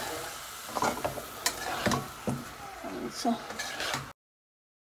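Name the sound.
stirring frying loitta fish with coriander, chilli, onion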